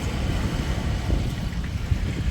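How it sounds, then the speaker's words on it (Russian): Sea waves wash onto the shore at Eilat on the Red Sea, a continuous low rumbling surf mixed with wind buffeting the microphone, steady and moderately loud with no voices. "Море"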